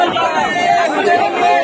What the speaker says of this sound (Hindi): यहाँ पे पीछे आप देख सकते हैं कितनी ज्यादा भीड़ है